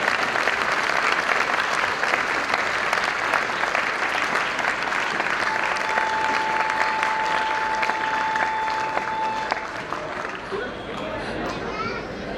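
An audience claps loudly in welcome at a gathering, a sustained wash of dense applause that carries on for several seconds before thinning out near the end, with some chatter and a sustained tone under it.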